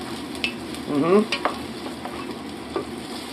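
Oil sizzling and being stirred in a pan on a Tefal 2100W induction hob, with close, moderate crackling and a few sharp scraping stirs over a steady hiss.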